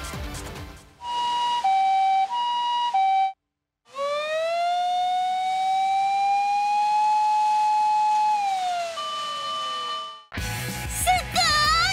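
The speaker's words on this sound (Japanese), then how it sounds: "私は両方の機能を持っていますからサイレンも。" A loud electronic fire-ambulance siren alternates between two tones, breaks off briefly, then a long rising wail holds and falls before a different siren pattern cuts in.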